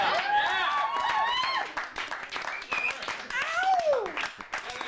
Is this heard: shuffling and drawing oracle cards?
no